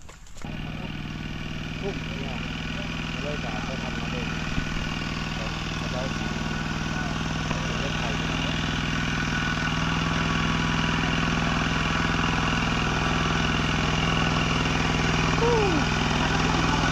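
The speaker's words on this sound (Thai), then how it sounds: "ได้ยินเสียงรถไถ" A hand tractor engine runs with a steady, continuous drone throughout, heard at moderate distance at a village ceremony of the Mangkong people in Laos.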